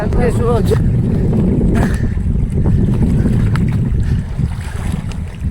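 Strong wind roars and buffets the microphone while river waves churn and splash, with a voice talking over the constant rush.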